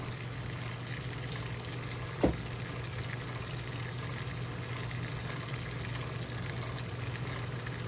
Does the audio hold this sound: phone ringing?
no